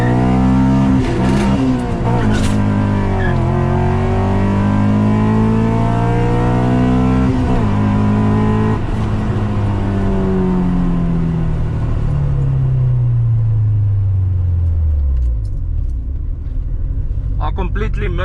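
A Honda Civic with a B20 VTEC engine revs hard in a drag race, its loud rising engine note climbing through the gears before dropping steadily in pitch as the car eases off near the end.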